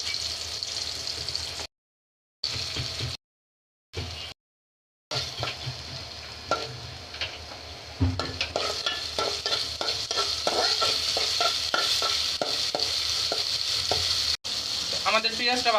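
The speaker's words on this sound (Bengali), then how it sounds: "এখন এই যে পেঁয়াজ দিতে দিতে পেঁয়াজগুলো ভাজে নেব ভালো করে।" Onions frying in oil in a pan for a potato and chicken giblet curry, close sizzling with scraping spatula strokes, interrupted by several short silences before a louder, continuous crackle and stirring.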